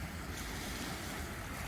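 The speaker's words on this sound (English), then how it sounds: "just got to wait for a couple of nice waves to come in" Ocean surf rolling in on a coast at sunset, a dense, continuous roar of waves mixed with wind buffeting the microphone, close and loud with no voices.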